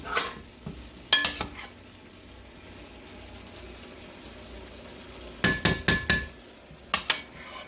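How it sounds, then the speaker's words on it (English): A spoon stirs tomato sauce into Cajun-style chicken in red gravy in a pot, with clusters of scraping clanks against the pot over a faint background sizzle. "Stir that in real good."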